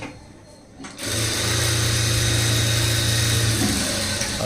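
A sewing machine runs steadily stitching a 3-dot saree blouse, its motor hum starting abruptly after a second of quiet and continuing loud and even to the end, with no talking.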